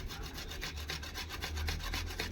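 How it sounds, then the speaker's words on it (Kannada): Boiled potato being grated for aloo paratha filling, a quick run of soft, rhythmic rasping strokes, close and fairly quiet, with no voices. "ಇದನ್ನು ಸ್ವಲ್ಪ ಹೀಗೆ ಮೆತ್ತಗೆ ತುರ್ಕೊಂಡ್ಬಿಡ್ತೀನಿ"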